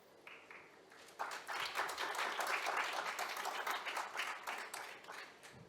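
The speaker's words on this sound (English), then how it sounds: "let us now start the table topics contest with huge round of applause" A theatre audience at a Toastmasters table topics contest bursts into sustained applause for the first contestant, a dense, steady wash of many hands clapping that swells quickly after a quieter opening and holds for several seconds.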